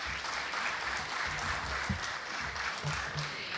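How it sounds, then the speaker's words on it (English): Audience applause at the INFOCOM 2023 conference, a steady wash of many hands clapping that fills the hall for several seconds without a break. "please give it a round of applause for those thought leaders who have the audacity to think beyond their times"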